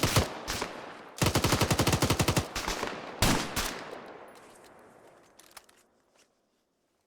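Bursts of rapid automatic gunfire and single shots from the video game Arma 3, at an airport, loud at first, then fading to sparse distant pops and near silence.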